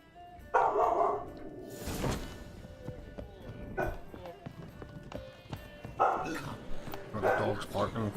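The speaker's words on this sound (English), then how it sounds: "dog's barking for some reason now" A dog barks a few times in The Witcher 3 video game, sharp yelps scattered over game ambience with hoof-like clopping and someone speaking over parts of it.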